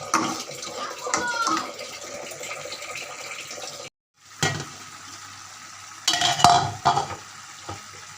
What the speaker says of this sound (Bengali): এখন এটা ভালো করে কষিয়ে নেব একটু পর করে এভাবে নাড়া দিতে হবে